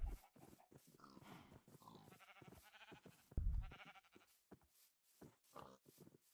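Several video game sheep bleat repeatedly, their wavering cries overlapping and close by, with a brief low thump partway through.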